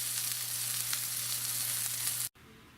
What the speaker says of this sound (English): I'm going to sear it on this other side, and also I want to sear it on the ends as well.